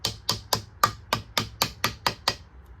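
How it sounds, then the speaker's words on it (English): A hammer lightly tapping the edges of a piston ring compressor while fitting a piston into an engine block, ten crisp metallic taps in an even, steady rhythm, close and clear, then stopping. "Just tap the edges of the compressor with a hammer lightly"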